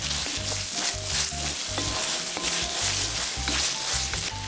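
Macaroni stir-fried with minced meat, capsicum and sauces in a hot pan, a steady sizzle with repeated scraping stirs and clinks of the utensil, close and continuous, with no talking.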